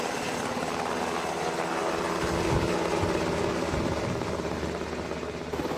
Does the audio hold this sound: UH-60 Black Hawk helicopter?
yes